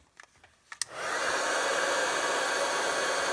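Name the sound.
heat tool melting embossing powder on a card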